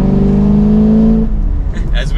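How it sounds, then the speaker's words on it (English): A 2023 Chevrolet Camaro Convertible 2SS with the top down accelerates, its exhaust giving a loud, steady droning roar that fades as the car pulls away. "putting the top down and really hearing this exhaust"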